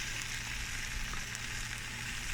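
Sausage links fry in a cast iron pan set over coals, giving a steady, close crackling sizzle that holds evenly with no talk.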